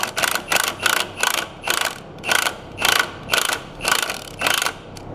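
A ratchet wrench tightens bolts on the steering of a 1998 Subaru Forester with a clunky steering fault, giving about ten close, evenly spaced bursts of rapid clicking, loud and alone.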